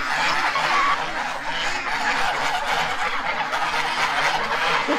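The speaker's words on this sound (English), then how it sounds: "Listen to those ducks." A flock of ducks outdoors quacks loudly and continuously, many overlapping honking calls close by with no pauses, agitated and noisy throughout.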